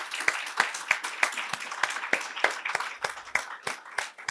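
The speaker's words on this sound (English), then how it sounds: "so that we can all applaud you" Audience at a public university lecture clapping; sparse, distinct hand claps at an even, rhythmic pace, fairly close, with no voices over them.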